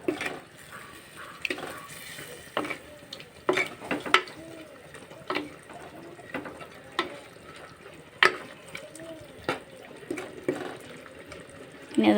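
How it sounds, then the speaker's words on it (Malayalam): A spoon moves whole small sardines around a bubbling chilli curry. Light scrapes and knocks against the pan come at irregular intervals over a steady low simmer. "മീൻ ചേർത്ത് കൊടുത്ത് നന്നായിട്ട് ഇളക്കി കൊടുക്കാം."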